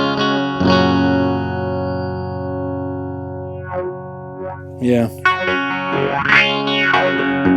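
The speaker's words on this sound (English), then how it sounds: "this thing actually sounds as if there's oscillation going on or an overdrive or something, a very bad sounding overdrive" Electric guitar run through a phaser pedal, producing a harsh, broken, overdrive-like oscillating tone with sustained chords and sweeping, warbling swells; a brief spoken word cuts in near the end.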